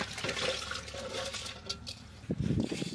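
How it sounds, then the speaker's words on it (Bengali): Rice is poured into a pot of hot water at a riverside picnic, making a soft watery rush that swells into louder splashing toward the end. "এদিকে আমার জল গরম হয়ে গেছে, হ্যাঁ। চাল ঢেলে দিলাম।"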